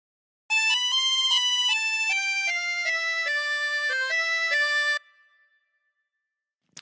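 A harmonica plays a melody as a clear, sustained line of steady held notes stepping up and down, close and alone, then fading out.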